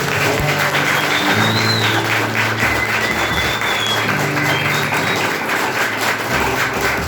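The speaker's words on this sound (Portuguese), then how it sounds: "Dê uma aplauso" Church congregation applauding during a Portuguese-language family worship service, a steady, dense wash of clapping that carries on for the whole stretch at fairly close range.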